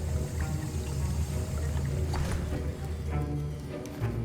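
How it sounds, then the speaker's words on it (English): In the Hogwarts Legacy video game, a potion is stirred, producing a continuous sloshing, bubbling liquid sound at a moderate level without any voices. "I see most of you have not forgotten how to stir."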